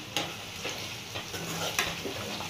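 Onion, green chillies and garam masala frying in a pan for chicken gongura curry, a steady soft sizzle with a few clinks and scrapes of a stirring spoon, no talking.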